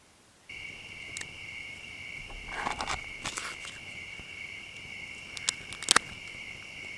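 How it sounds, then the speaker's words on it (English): Crickets chirp in a steady, shrill, unbroken trill on a stormy night at a truck campsite, with a few soft rustles and taps close by. "Bugs are out, I'll tell you that much."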